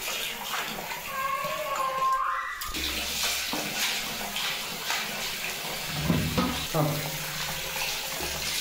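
Finger millet (nagli) is washed in water, with splashing, swishing and trickling as the grain is stirred and rinsed in a vessel close by, in uneven bursts throughout.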